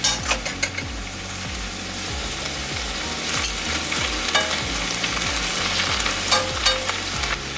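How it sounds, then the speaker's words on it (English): Beef with broccoli and greens stir-frying in a crowded wok, a loud continuous sizzle close by, with repeated scraping and clinking as spoons stir the food, and no talk. "The wok's getting a bit full, so at this point, I highly recommend don't do the flip, use the spoons. Carefully stir it."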